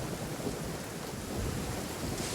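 Steady rain and rumbling thunder in the video game Genshin Impact, a dense continuous wash of noise with no voices.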